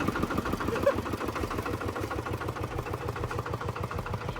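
A tractor engine runs steadily at a Chinese watermelon farm in Laos, a low, even rhythmic chugging that stays close and loud throughout with no pauses.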